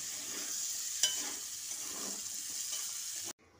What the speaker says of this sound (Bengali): এবার এই সবজিগুলো সব ভেজে নিচ্ছি ভালো করে।